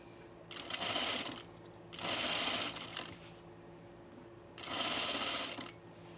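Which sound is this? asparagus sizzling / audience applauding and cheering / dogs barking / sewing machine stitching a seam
sewing machine stitching a seam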